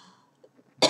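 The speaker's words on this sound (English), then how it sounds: "And if you go to cough, that's really great" One sharp, close cough bursts out after a short quiet stretch with faint breathing.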